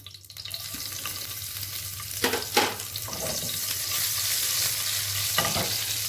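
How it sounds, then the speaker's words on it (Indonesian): Shrimp paste (terasi) fries in a pan with a loud, steady sizzle, broken by a few sharp scraping stirs of the utensil against the pan; no one talks. "Jadi kita bakal masak ya terasinya biar matang ya."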